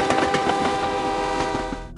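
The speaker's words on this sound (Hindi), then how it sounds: "ड्राइवर ने हॉर्न बजाया" A train horn sounds as the train slows on approach to the Lombard tunnel, a loud sustained tonal blast over rolling rail noise, holding for about two seconds before cutting off.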